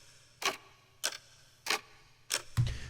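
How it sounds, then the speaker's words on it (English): A clock-tick sound effect used as a music production sample lands on the beat as four sharp, evenly spaced ticks, with a low thump at the end, close and clean with no voices. "It's like this clock ticking sound on the beat."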